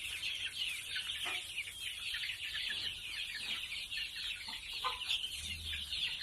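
One-month-old domestic chickens, a native and yellow white-tailed cross, cluck continuously, with scattered soft clucks and chirps from a flock nearby, over a steady background hiss.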